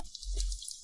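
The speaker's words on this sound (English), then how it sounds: "this drip water, will it even work?" Coolant cutting fluid drips onto a lathe turning work with a forged high-carbon steel tool, a single soft, close drip over a low steady machine hum with a faint hiss.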